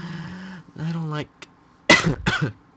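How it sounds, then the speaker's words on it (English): A person coughs twice in quick succession near the end, harsh and close, after a stretch of voiced speech-like sounds and a brief click. "coughing."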